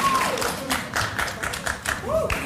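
A television studio audience claps and applauds, the clapping loud and steady, with a voice talking over it.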